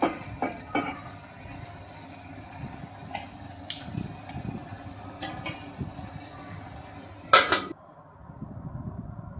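Chickpeas sizzle while frying in a pan, with a spatula scraping and clinking against the metal in irregular strokes and a few sharper knocks, until the sizzle drops away near the end.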